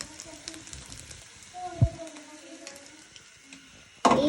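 Tuna fish frying in a pan: a faint, steady sizzle under nearby talking, with a brief clatter partway through and a sharp louder noise at the end.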